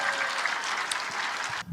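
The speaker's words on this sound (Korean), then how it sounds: "다시 박수 쳐" Audience applause at a Korean religious-political rally, a steady wash of clapping from the crowd that cuts off abruptly near the end.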